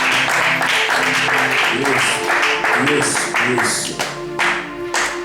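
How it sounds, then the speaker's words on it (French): A church congregation clapping together, a loud, busy patter of hands over voices and tonal musical sound that continues throughout. "Let's clap for the word of God"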